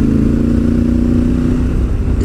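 A Honda Africa Twin DCT motorcycle in Sports 3 mode with traction control on its lowest setting, riding off-road: a loud, steady, close engine drone with rough low pulsing throughout, no talk.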